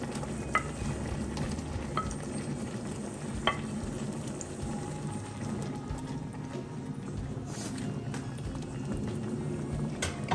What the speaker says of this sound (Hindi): मटर को हम यहाँ 2-3 मिनट के लिए थोड़ा पकने देंगे